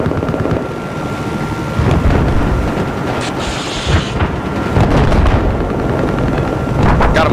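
Battlefield 4 tank combat gunfire: loud, dense booms and crackling shots roll on continuously, with heavy low rumble and a few sharper bursts.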